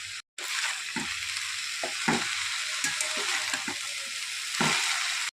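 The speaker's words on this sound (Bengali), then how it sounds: "এর মধ্যে আমি শাক, বেগুন, আলুকে দিয়ে দিলাম। একটু ভালোভাবে নাড়াচাড়া করে নেব।" Greens, eggplant and potato sizzle in a pan while being stirred, a continuous close hiss punctuated by soft scraping and clunking stirs at irregular intervals.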